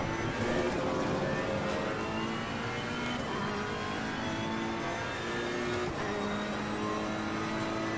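Race car engine in Assetto Corsa Competizione at the Imola circuit, a steady loud drone with rising and falling pitch as the car brakes and accelerates, no talking over it.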